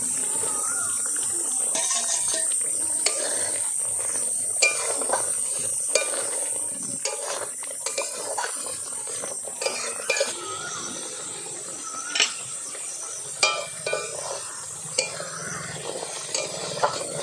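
Prawns go into a pan of Bengali malai curry seasoned with salt and turmeric, and are stirred with utensils that scrape and clink on the pan over a soft, steady sizzle.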